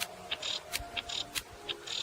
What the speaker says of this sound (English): to sound like a female cicada, which sounds like this.